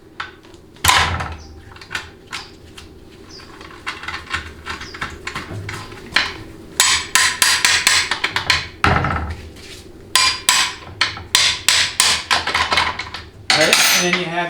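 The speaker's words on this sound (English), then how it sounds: "you need a 15mm wrench just to get at the castellated nut and take it loose" A 15mm wrench works a castellated nut loose on a 700R4 transmission's shift linkage, giving a series of close metallic clicks and ratcheting taps with a few sharper clanks of tools against metal.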